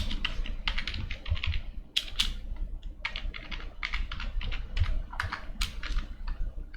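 Java program code being typed on a computer keyboard: rapid, close clusters of key clicks with brief pauses between bursts, over a low steady hum.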